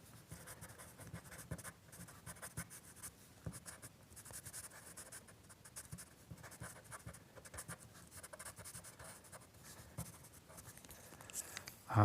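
Pastel pencils scratch steadily across paper in a waterfall sketch, a soft continuous close-up scribbling with short strokes and no talking.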